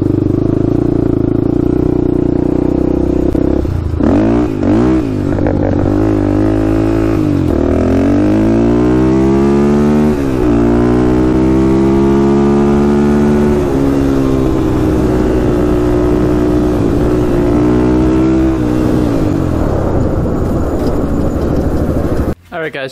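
A Honda 400EX ATV engine rumbles close and loud during a ride, its pitch rising and falling through repeated throttle changes and gear shifts, with brief talk in the background.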